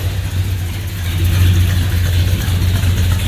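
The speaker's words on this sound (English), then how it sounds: "It's got a nice sound, but nothing obnoxious. Perfect muscle car sound." A 1969 Dodge Super Bee engine idles steadily with a deep, rumbling low-end burble, close and continuous, with no voices.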